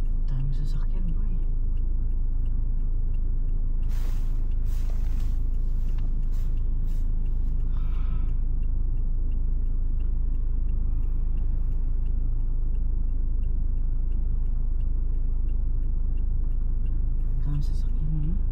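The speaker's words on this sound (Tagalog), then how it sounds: "Dami sasakyan boy" Busy road traffic in New Zealand rumbles steadily and close by, with passing cars and heavier vehicles blending into a continuous low drone while voices talk over it.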